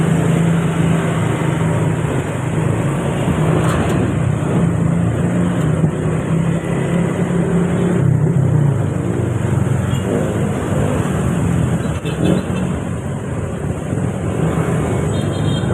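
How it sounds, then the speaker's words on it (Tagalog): Dense, continuous street traffic with engines of cars and motorcycles droning together, loud and close, with wind buffeting the microphone throughout. "Traffic talaga dito ma'am oh."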